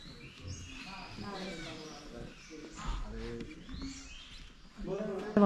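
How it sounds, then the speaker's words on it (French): Parakeets chirp and call in scattered bursts around an Angkor temple, fairly faint and mixed with nearby voices and other bird sounds, with a louder flurry near the end. "Et les oiseaux que vous entendez, ce sont des perruches."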